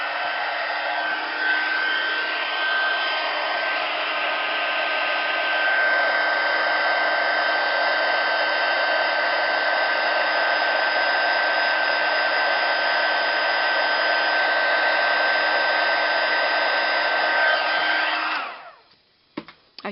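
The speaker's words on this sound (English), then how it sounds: "I'm just going to turn my heat tool on. So now we're going to heat emboss our flower." A heat tool blows hot air steadily to melt embossing powder on a paper flower, a loud continuous whirring hiss held for about eighteen seconds before cutting off abruptly.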